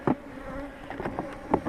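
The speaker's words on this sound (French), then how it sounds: "les abeilles qui ont pratiquement colonisé tout le bas de la ruche vont coloniser la partie haute" Honey bees hum and buzz steadily around an open hive during a spring inspection, a close, dense drone with individual insects swelling louder as they pass.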